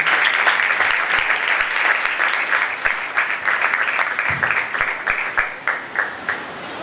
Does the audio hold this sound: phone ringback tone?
no